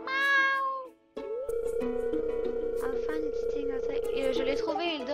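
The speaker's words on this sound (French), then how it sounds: "Oh, j'ai un chat!" A cartoonish cat meows in the farming game Stardew Valley, a short bright mew heard near and clear, then given way to steady game music and a voice talking over it.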